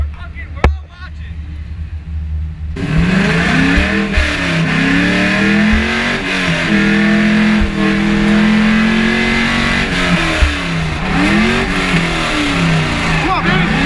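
LS1 V8 swapped into a Nissan S13 or BMW E46 drift car at a grassroots drift event, starting up with a sudden loud roar and then revving hard and unevenly, close by.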